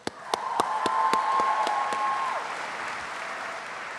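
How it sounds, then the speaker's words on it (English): Graduates and guests at the Stevenson University 2016 commencement applaud, with a few sharp near claps at the start, then a broad sustained wash of clapping while a steady hum rings over it. "Another round of applause."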